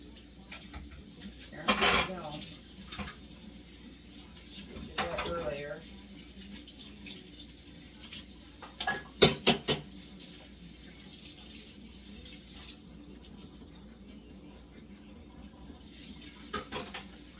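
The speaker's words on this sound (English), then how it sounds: "Oh, I hear some clean quart jars." Clean glass quart canning jars clink against each other in a kitchen in a few scattered bursts of bright, ringing knocks, close by, separated by quieter handling noise and occasional talk.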